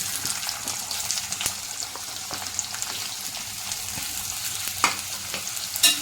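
Onion fries in oil in a pan while a methi vegetable dish is cooked, giving a constant close sizzle with occasional stirring clicks and scrapes, and louder pops near the end.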